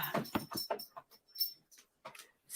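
A dog whimpers for attention, giving a run of short, high, nasal whines and yips in irregular bursts, close by and fairly quiet.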